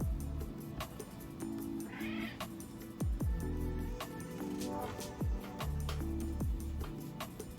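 A cat meows several times at close range, its calls rising and falling in short, repeated bursts.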